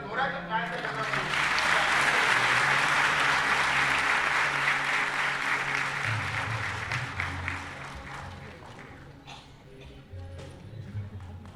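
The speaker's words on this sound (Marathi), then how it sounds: "सर्वांनी पुन्हा एकदा जोराच्या टाळ्यांचा गजर करू." Audience applause fills a hall at a road safety week event, a long sustained round of clapping that swells early and slowly tapers off, with scattered claps at the end.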